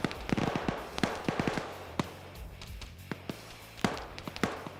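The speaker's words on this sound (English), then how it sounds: "That's going to cook off and kill the remaining 2 people inside." Ammunition cooking off inside a burning BTR armoured vehicle in a PvP military video game, heard as a string of sharp irregular cracks and pops, some clustered and some spaced, over a low rumbling background.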